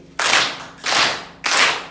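A school class clapping hands together in a classroom, three sharp bursts of group applause in quick rhythm, loud and close, with no talking.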